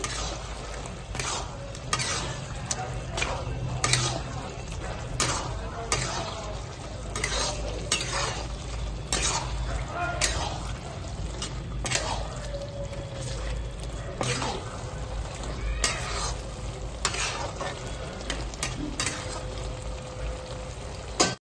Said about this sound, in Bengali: আমরা ভালো করে সম্পূর্ণটাকে নাড়িয়ে নিচ্ছি